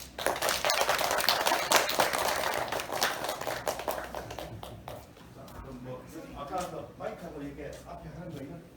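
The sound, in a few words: audience applause welcoming a professor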